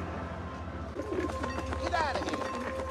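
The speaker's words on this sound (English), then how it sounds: "Look at those birds." Pigeons or doves coo in soft, repeated warbling calls close by, over a low steady hum with a brief voice-like murmur around them.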